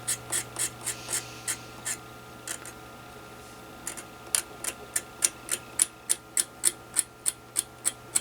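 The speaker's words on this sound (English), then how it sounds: "all I'm going to do is take an X-Acto knife." An X-Acto knife scrapes the end of a part on a Kenwood TS-520SE ham radio VFO. Short, crisp scratching strokes repeat in a steady rhythm, close and fairly quiet, with no talking.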